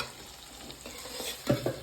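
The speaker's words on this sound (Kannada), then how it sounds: "ಶಾವಿಗೆ ಜೊತೆಗೆ ಎಲ್ಲ ವೆಜಿಟೇಬಲ್ಸ್, ಫ್ರೈಡ್ ವೆಜಿಟೇಬಲ್ಸ್ನ ನಾನು ಮಿಕ್ಸ್ ಮಾಡ್ಕೊಳ್ತೀನಿ" Fried vermicelli and fried vegetables are stirred in a pan, with a soft, quiet sizzle and a couple of light scraping strokes near the end.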